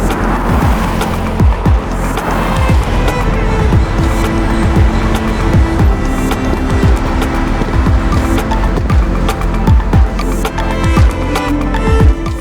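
A Lexus RX500h driving hard on a race track, with loud continuous engine and road noise, tyre squeal and repeated thumps and bumps; no speech.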